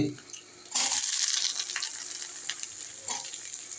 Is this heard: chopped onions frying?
yes